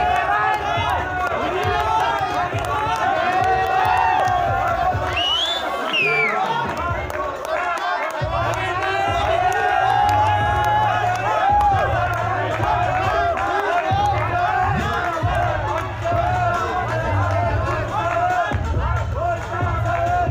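A loud crowd cheers and shouts continuously at a bodybuilding competition, steady roaring noise from a large audience with voices calling out throughout.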